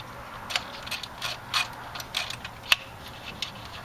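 A 10 mm socket ratchet clicks in short, uneven bursts as it loosens a coil nut on a Jeep 4.7 V8 engine. The clicks are close and fairly quiet, with no talking.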